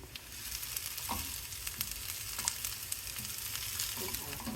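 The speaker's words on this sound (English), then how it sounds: "Pretty much just gonna saute this with butter and bunching onions, just a dash of black pepper" Ringless honey mushrooms sauté in butter with bunching onions, giving a steady close crackling sizzle throughout with occasional stirring clicks and scrapes, no talk.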